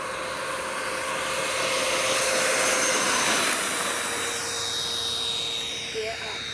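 Freewing F-14 radio-controlled jet's electric ducted fan engine at full throttle, a loud, steady, high whooshing whine that swells slightly and holds for several seconds with no talking.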